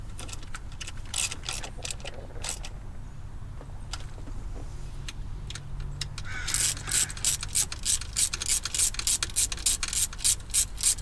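Ratchet tightening bolts during a coil pack install on a 2011 Ford Crown Victoria, heard as a run of sharp close clicks, sparse at first then settling into a rapid steady clicking rhythm in the last seconds, with no talk.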